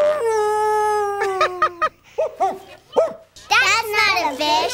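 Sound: man imitating a dog

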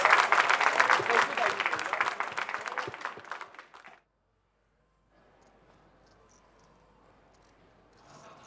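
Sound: audience applauding at a poker final table

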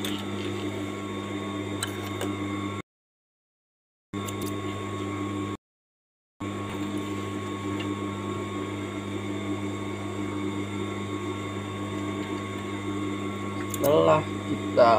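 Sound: sewing machine stitching a pocket

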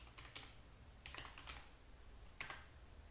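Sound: typing on a computer keyboard

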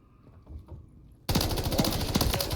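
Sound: gunfire in video game Call of Duty MWIII

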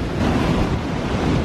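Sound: sea waves washing around a tripod on the shore

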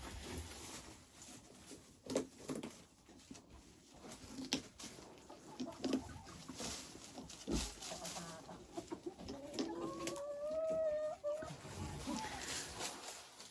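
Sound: Dominant breed hens in the yard

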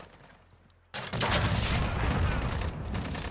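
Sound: gunfire in Call of Duty Modern Warfare gunfight, video game

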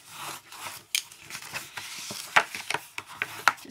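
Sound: scoring and burnishing score lines

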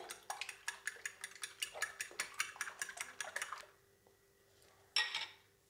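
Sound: beating eggs with salt and black pepper

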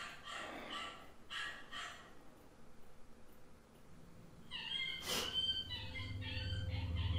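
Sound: dog reacting frightened

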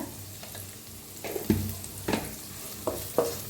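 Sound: garlic frying in oil

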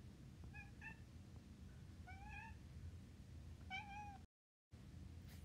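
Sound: cat meowing

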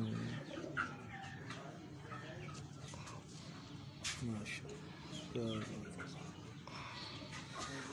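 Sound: pigeons cooing on a rooftop

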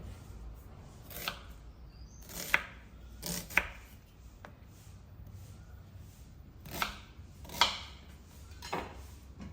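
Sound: rough chopping of onions with knife

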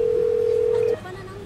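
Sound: telephone ringback tone while calling

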